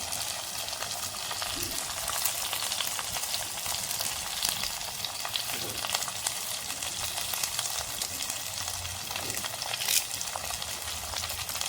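Onions frying in a pan for a village-style fenugreek curry, a loud dense continuous sizzle close by, steady throughout without pauses.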